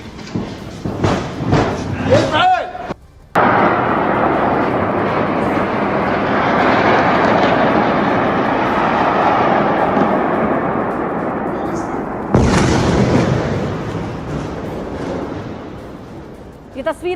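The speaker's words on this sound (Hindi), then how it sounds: "ईरान ने किस तरीके से मिसाइलें दागी है" Heavy, sustained roar of an Iranian ballistic missile attack on southern Israel, with a sharp thud near three seconds and a second loud burst at twelve seconds, broad rumbling filling most of the stretch.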